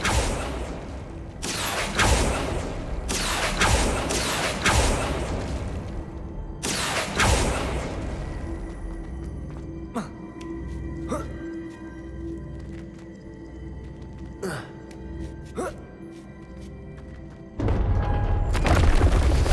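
Spell effects for Depulso and Accio in the Hogwarts Legacy video game: a run of loud, sharp magical blasts and whooshing bursts, several clustered early and a final heavy burst near the end, with sparser clicks and thuds between.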